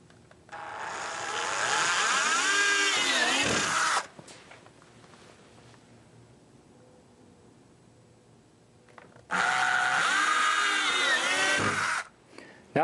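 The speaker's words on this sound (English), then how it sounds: "all you need is a 3/8 drill bit and a cordless drill" Cordless drill fitted with a 3/8 bit boring holes through a tractor roof, two whining bursts of a few seconds each that rise and strain as the bit bites, separated by a quiet pause.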